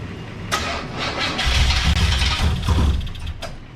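A cold 1984 Chevrolet Monte Carlo engine cranks and catches, settling into a rough, rumbling idle close by, with a few uneven surges and no voices.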